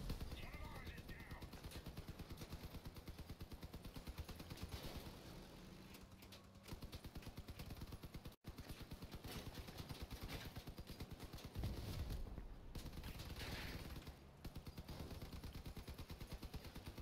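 Vehicle-mounted weapons firing in the armored car combat game Crossout, rapid continuous machine-gun bursts running nearly the whole time with a brief break, fairly faint, mixed with engine noise and occasional talk.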